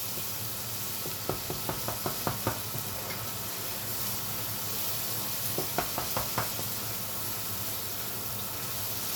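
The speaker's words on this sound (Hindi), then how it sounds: "मसाले की बुनाई बहुत ही अच्छे तरीके से कीजिएगा" Masala spices frying in hot oil for mutton kofta, a steady soft sizzle running throughout with bursts of quick light metallic taps from a spoon against the pan, close and moderately quiet.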